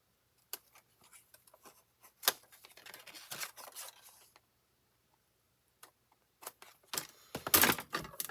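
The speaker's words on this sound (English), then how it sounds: "I'm just going to trim that off." Scissors or a trimming tool cutting off a fold of paper on a fun-fold card, faint close snips and rustles in short bursts separated by silence.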